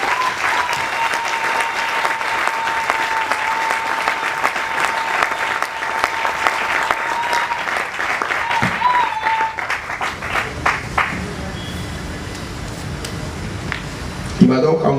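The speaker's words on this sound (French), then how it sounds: "que je veux qu'on salue par acclamation" A church congregation applauds and cheers to acclaim the apostle Emmanuel Nken, dense sustained clapping under an amplified voice for about ten seconds, then fading into a quieter room with scattered claps.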